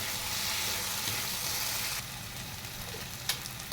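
Tomatoes sizzle in a pan while cooking down for paneer bhurji, a steady close hiss of frying that eases slightly partway through, with a faint clink near the end.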